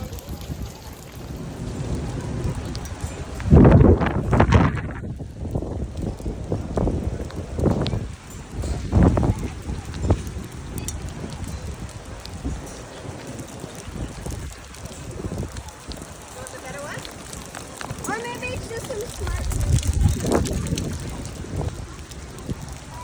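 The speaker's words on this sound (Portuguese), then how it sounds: "E é chuva, menino, muita chuva aqui no Coliseu." Heavy rain pours steadily over the open ancient arena of the Colosseum in Rome, a dense constant hiss with gusts of wind and occasional deep rumbles, with people talking faintly nearby.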